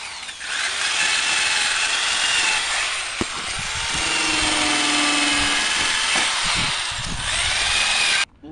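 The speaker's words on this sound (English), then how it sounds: "So I'm gonna grind it while I'm waiting for him." Angle grinder cleaning metal before stick welding, a loud, close, continuous high-pitched whine that dips and rises as the disc bears on the workpiece, then cuts off abruptly near the end.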